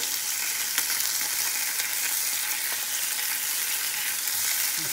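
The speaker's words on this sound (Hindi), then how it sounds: "आतां हे फ्रायंग पॅनान तेल घायलां हांवें आनी बारीक चॉप करून हांव तेल पियाव घालतां" Finely chopped onion sizzles steadily in hot oil in a frying pan while a Goan kingfish curry is cooked, a continuous close crackle and hiss without pause for the full stretch, no voices.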